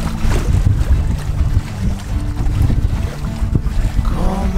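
A sailboat under full sail in about 10 knots of wind off Queensland's east coast, with loud steady wind buffeting the microphone and water rushing along the hull throughout, with no talk.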